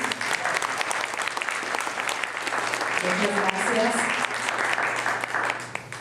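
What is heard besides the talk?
audience applause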